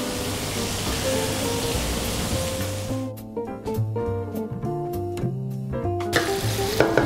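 Onions sizzle and fry in a pot for a one-pot chicken chasseur, a dense close hiss for about three seconds. Music then takes over, and the sizzle briefly returns at the end.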